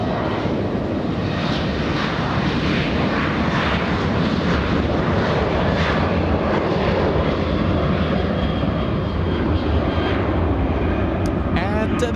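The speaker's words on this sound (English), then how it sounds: "Mexican 737 flying to Mexico City," A Mexican Boeing 737 airliner on the move at LAX airport produces a loud, continuous engine roar and rumble, with a voice talking over it.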